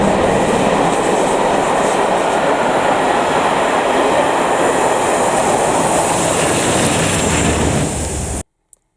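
A diesel-hauled rail tour train, the Royal Duchy, labours up a steep hill in Cornwall, producing a loud, continuous rolling roar of engine and wheels that holds steady before cutting off abruptly.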